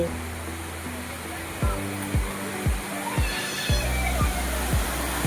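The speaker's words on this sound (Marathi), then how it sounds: "पाण्याचा आवाज तुम्हाला येतो." Water rushes steadily at the Prabalgad waterfall near Devloli dam, a broad continuous hiss with a rhythmic train of low thudding pulses over it.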